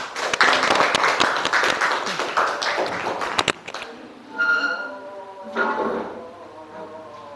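A burst of clapping from a classroom of students fills the first few seconds, then stops and a voice speaks.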